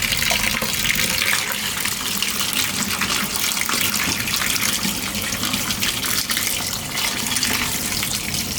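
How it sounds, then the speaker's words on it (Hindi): Tap water pours steadily over mutton brain held in a strainer, a loud, continuous splashing rush close by with no pauses. "ऊपर से टैप खोल के वॉश करने लगी"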